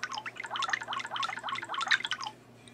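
A Samsung Galaxy Note 10.1 tablet plays its water-like touch sound, a quick string of bright droplet plinks in a steady rhythm, close and clear, ending in quiet.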